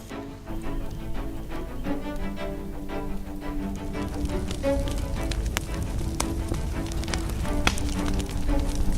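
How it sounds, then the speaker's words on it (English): A large outdoor bonfire burning plastic-cased electronic chips crackles and roars steadily, with dense popping and hissing throughout and music playing alongside. "We lit up a bonfire."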